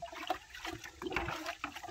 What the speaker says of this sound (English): I'm just going to pour this into this 5-gallon bucket.